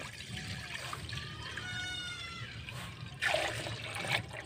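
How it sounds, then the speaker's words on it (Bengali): Milk pours into a wok holding a little water, a soft close trickle of liquid with a brief louder splash near the end, faint and alone. "এইবারে আমি দুধটা দিয়ে দেব।"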